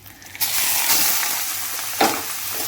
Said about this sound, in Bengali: এবার কড়ার মধ্যে আমি কালো জিরা ফোড়ন দিব আর দিব হিং।